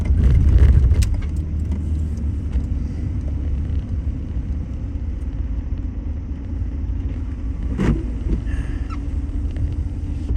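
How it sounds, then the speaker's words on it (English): Road traffic rumbles past nearby, a steady low engine and tire drone with a louder swell at the start and another brief pass partway through. "I just have to focus a little because there's cars"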